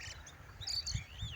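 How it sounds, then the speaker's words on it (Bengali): Mynas and drongos call over an irrigated wheat field, a few faint high chirps and short whistles rising and falling against a low steady background rumble. "এখানে আছে শালিক পাখি, ফিরিঙ্গি রাজা"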